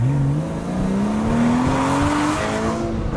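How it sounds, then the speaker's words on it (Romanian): A Tesla Model S 75 launches hard from a standstill, its loud, close electric motor whine climbing steadily in pitch over a rushing roar of tyres and air. "Băi, ești nebun ce s-a dus Tesla"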